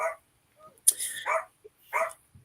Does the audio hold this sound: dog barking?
yes